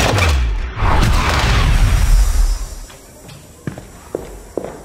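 A Depulso spell cast in a Harry Potter video game: a loud whooshing, rumbling burst that fades out, followed by a few sharp knocks and clatters.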